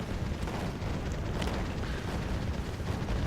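Continuous heavy rumble of artillery shells landing and exploding in the war game Wargame AirLand Battle, dense overlapping blasts forming a steady roar with no one talking.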